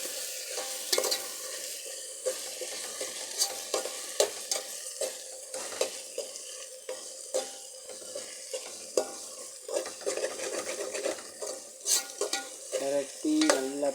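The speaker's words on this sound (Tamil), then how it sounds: "இப்போ சிக்கன் மசாலா மல்லித்தூள் ரெண்டையும் போட்டுக்கலாம் போட்டு அதையும் நல்லா பரட்டிக்கலாம்" Chicken masala and coriander powder being stirred and fried in a pan for chicken liver curry, a steady close sizzle broken by repeated scraping strokes of a spoon, with no talk.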